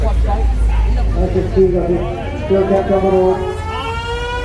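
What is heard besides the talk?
siren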